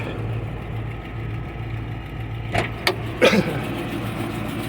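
A Geo Tracker engine idles steadily in neutral at a raised idle, a low continuous hum with a few brief clicks and rattles partway through, with no talking.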